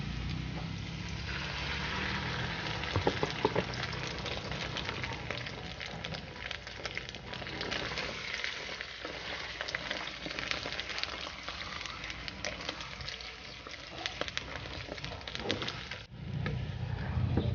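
Eggs sizzle and crackle in a hot pan, a steady dense frying hiss with scattered pops running throughout, close and fairly loud with no talk.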